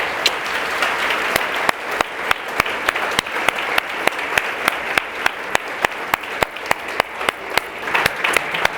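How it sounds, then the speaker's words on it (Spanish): A church congregation applauds during a sermon, with steady, loud clapping from many hands and sharp, evenly spaced claps standing out in a regular rhythm throughout. "Le dan un aplauso."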